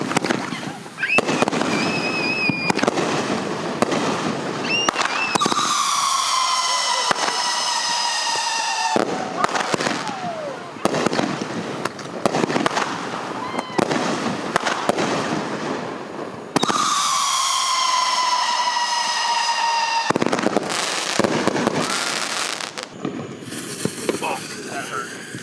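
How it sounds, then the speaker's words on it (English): Fireworks mortars go up two at a time at a family July 4th backyard show, with sharp launches followed by loud bursts and long crackling, whistling tails, close by, while people talk and shout. "They're lighting 2 mortars at a time right there."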